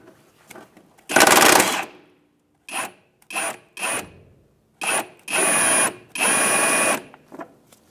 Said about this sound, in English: with a 17mm socket, we're going to remove this bolt here.